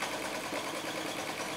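A vintage White sewing machine runs continuously during free motion quilting, a steady quiet whirring hum with no pauses or talk over the short stretch.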